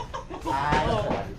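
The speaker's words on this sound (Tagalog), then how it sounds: "Yan ang manok ba?" A chicken clucks a few times nearby, its short throaty calls rising into a brief squawk against quiet outdoor background.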